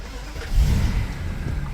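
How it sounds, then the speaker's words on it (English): A BMW 645i with an active steering fault cranks and catches, its engine starting with a brief low surge, then settling into a steady close idle. "Start the engine."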